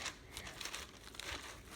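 Faint, irregular crinkling of a crumply toy, quiet rustles and crackles coming in small bursts against a low background.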